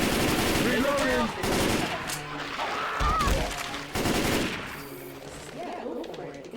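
Gunfire in Left 4 Dead 2 during finale fights, a busy, continuous rattle of automatic weapons and shots mixed with game noise and several people talking over it throughout.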